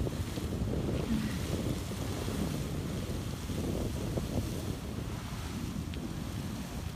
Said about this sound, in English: You can probably see some crazy waves.